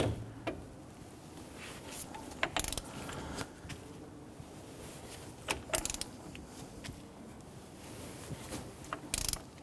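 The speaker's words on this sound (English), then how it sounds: "go ahead and torque down the axle nut" Torque wrench tightening the axle nut to 242 foot-pounds on a 2006-2014 Honda Ridgeline steering knuckle, giving a few sharp ratcheting clicks and metallic clunks over a low background rumble.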